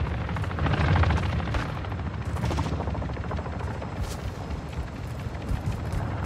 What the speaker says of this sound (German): Das ist noch nicht unser Heli.